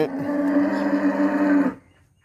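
A cow on a dairy farm gives one long, loud, close moo that holds steady, then cuts off into near silence.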